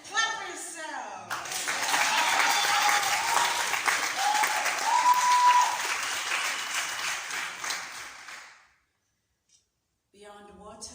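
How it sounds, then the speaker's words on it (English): An audience at a poetry event bursts into lively clapping and cheering after a short spoken line, sustaining for several seconds before stopping abruptly, followed by silence and then a voice resuming. "Clap yourself."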